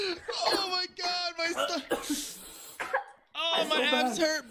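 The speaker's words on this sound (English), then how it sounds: "she's coughing because it's so strong" A woman coughs once, a harsh, breathy burst in a podcast setting, close and loud, between bursts of animated talk.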